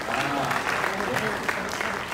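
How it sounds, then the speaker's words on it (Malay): Audience applause at a Malaysian talk on turning dreams into reality, a steady dense clapping from a crowd filling the whole moment, with a voice faintly mixed in underneath. "Kita berikan tepukan kepada isteri pada HSME."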